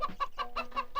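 A voice imitates a hen clucking: five rhythmic, close, loud clucks in quick succession, as a comedy scene in a Marathi film.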